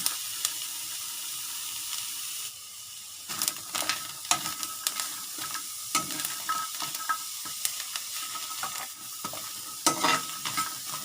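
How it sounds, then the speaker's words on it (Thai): Garlic, shallots and chili dry-roasting in a pan, close and steady crackling and scraping stir strokes in irregular bursts, with no talking. "เดี๋ยวเราจะเอา กระเทียม แล้วก็หอมแดงนะคะ เอาลงไปคั่ว แล้วก็พริกนะคะ"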